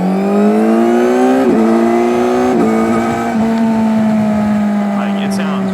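A 2025 Kawasaki Z900 SE motorcycle fitted with an M4 slip-on exhaust revs loudly and close, its engine note climbing in a few rising pulls with brief dips between shifts, a clean steady tone throughout.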